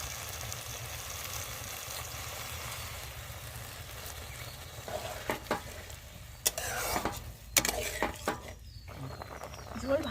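Sizzling and scraping from a pan of paneer and peas curry as water goes in, a steady hiss giving way to irregular spoon-and-pan clatters and stirring knocks.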